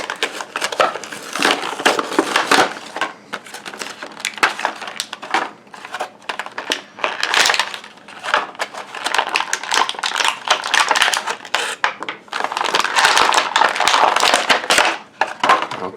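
A Superman action figure is torn out of its cardboard and plastic packaging up close, with loud crackling, ripping and crinkling in irregular bursts and brief pauses throughout.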